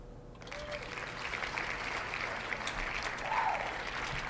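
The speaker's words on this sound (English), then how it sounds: "there's like a screaming crowd and one guy who just goes like, wow! Every single time I spin this" A screaming, cheering crowd sound effect plays while a draft wheel spins, a broad roar of voices swelling steadily across the whole moment.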